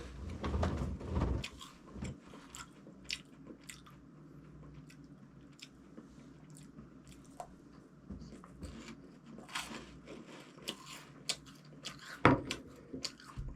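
Crunchy chewing of a melon-flavored Melon Kick puffed corn snack, close and quiet, with soft squishy bites and crunches scattered through the clip and a sharper crunch near the end.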